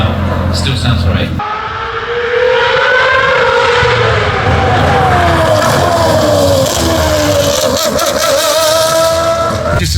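An old-school V8 car engine on a race track, a loud nearby roar that climbs and falls in pitch through gear changes and rises again toward the end, with a passing whoosh at the start.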